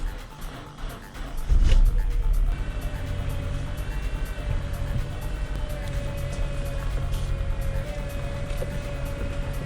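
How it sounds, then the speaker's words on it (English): A freshly replaced power steering pump on a Honda Accord Euro with a K24 engine runs at idle, giving a steady mechanical whine and hum that starts with a louder surge and then holds an even drone. "Sounds like good power steering noise actually."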